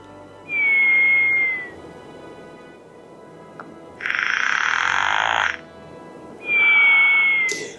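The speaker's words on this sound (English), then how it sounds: "I do want to hear the snoring as well" A LEGO Pokémon Smart Play toy plays electronic snoring sounds for Umbreon: three long, droning tones with a whistly edge, separated by short pauses, loud and close.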